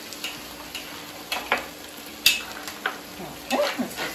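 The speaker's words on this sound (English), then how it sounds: "you're going to just mix in the string beans so they're nicely coated with the olive oil" String beans being stirred through hot olive oil in a pan, a steady close sizzle and frying crackle broken by scattered clicks and light scrapes of the spoon against the pan, with no talk.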